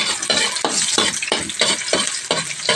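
Chopped garlic sautéing in a hot pan, loud close sizzle broken by a regular rhythm of spatula strokes scraping and stirring about twice a second, with no talking.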